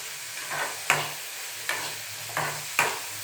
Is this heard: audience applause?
no